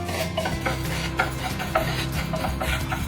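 Spices dry roasting in a hot pan while a spoon stirs them, giving a steady scraping rasp with light clinks of metal on metal, close and continuous throughout.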